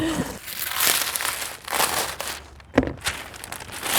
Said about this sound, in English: It's actually just paper.